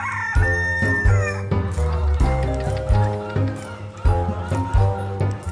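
Roosters and hens at a poultry exhibition in a hall, crowing and clucking repeatedly, with harmonic calls overlapping one another against a busy indoor background.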